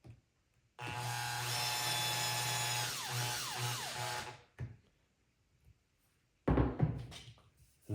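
A power drill drives a screw into a folding cedar lounger with one sustained close whir of about three and a half seconds, followed by a short tap and then a brief burst of wood knocking or handling noise.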